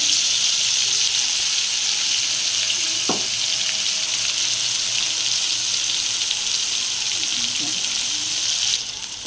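Mankochu leaf paste frying in a pan gives a steady, close hiss of sizzling oil throughout, with a brief clink and faint background sounds under the continuous fry.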